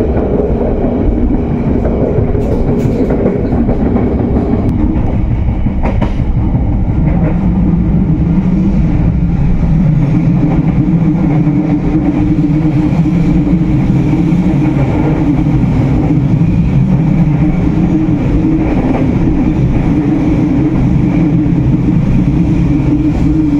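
The Kutojaya Selatan passenger train passes straight through Cicalengka station in Indonesia with a loud, continuous rumble and rolling wheel noise, steady throughout with faint rhythmic clicks, heard close up as if from onboard.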